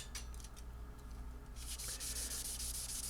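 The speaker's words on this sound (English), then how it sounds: "I had to do a little sanding and repair." Steady close-up sanding of a Gretsch Chet Atkins guitar neck, a dry rasping rub that grows louder and brighter halfway through, with no voices.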